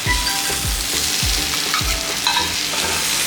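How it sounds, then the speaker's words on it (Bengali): Spices fry briefly in a pan with a loud, close sizzle, punctuated by a regular series of scraping stirs roughly every half second. "এখানে একদম অল্প ভাজছি"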